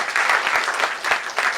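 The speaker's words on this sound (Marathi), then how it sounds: "जोरदार टाळ्या सरांसाठी झालं पाहिजे." Dense audience clapping at a Marathi book launch on India's maritime security, steady and close for the whole stretch with no voices over it.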